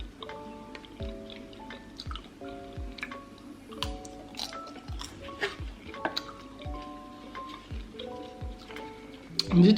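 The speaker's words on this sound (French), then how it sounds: "je le mange, c'est croquant" Someone eats stuffed grape leaves during a Syrian food mukbang, with repeated soft, wet crunching and squishy chewing close to the mic and occasional ticking clicks. There is no talking over it.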